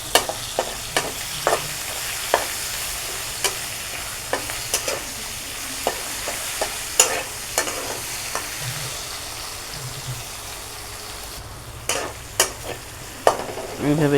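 A fish head cooks with mixed vegetables and tomato in a pan, sizzling steadily while a utensil stirs and scrapes in repeated strokes, with no talking.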